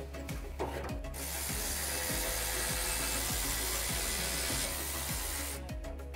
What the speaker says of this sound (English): So just grab a half inch socket and remove these four bolts.